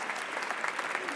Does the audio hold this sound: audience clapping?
yes